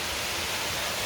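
A tall waterfall at Dao Falls in Cebu, Philippines: a steady, dense roar of falling water, constant and fairly loud with no voices.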